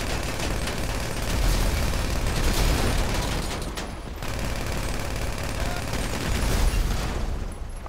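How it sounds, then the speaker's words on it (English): Sustained gunfire in a Grand Theft Auto V heist shootout: dense, continuous bursts and rattling shots with no clear pauses, loud and close throughout. "Keep shooting them, guys."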